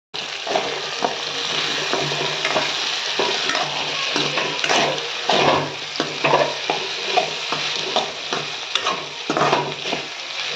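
Rice with turmeric powder sizzles steadily in a hot pan while a spoon scrapes and stirs it in repeated strokes, a continuous close frying hiss throughout.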